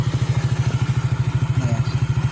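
Engine of a 25-year-old Honda Astrea motorcycle running close by, a steady rapid mid-pitched putter with even pulses and a slight rise in pace, with no talk over it.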